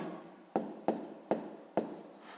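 A pen scratches numbers into a notebook in four quick, evenly spaced strokes, each a crisp attack that fades into a soft rasp, close and quiet with no talking.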